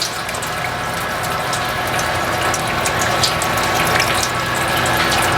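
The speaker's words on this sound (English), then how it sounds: "we're pumping the 5 gallons of concentrated wort in" A pump runs loud and steady while moving five gallons of concentrated wort into a fermenter during homebrewing of a Belgian wit, with liquid rushing and faint mechanical ticking throughout and no talk.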